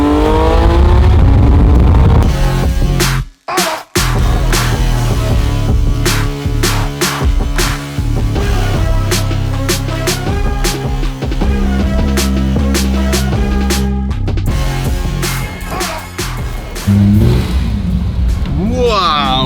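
A manual gated Lamborghini Murcielago LP640 with a V12 engine revs hard and pulls away, loud and close, with repeated rising and falling revs, gear changes and a brief cut, alongside excited voices.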